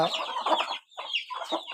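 A large hen on a farm in Khammam clucks repeatedly up close, a run of short throaty calls broken by a brief pause, then more clucking.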